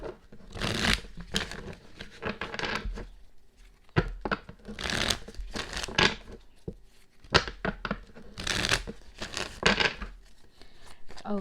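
Tarot cards being shuffled by hand in bursts, a crisp papery riffling and slapping that repeats in clusters with short pauses, close and fairly loud.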